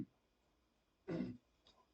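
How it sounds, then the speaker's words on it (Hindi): A single short cough, quiet and close, after a moment of near silence, followed by a faint trailing breath. "बहुत खांसी हो गई"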